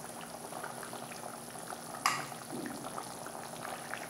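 Egg curry gravy at a steady simmer in the pot, soft continuous bubbling and popping close by, with one brief sharp knock midway as an egg is cracked in, and no voices.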